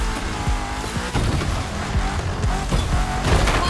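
A Porsche 959 racing in The Crew Motorfest, its engine roaring steadily with repeated gear shifts and tire squeal, loud and close throughout.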